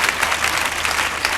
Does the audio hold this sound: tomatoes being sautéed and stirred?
no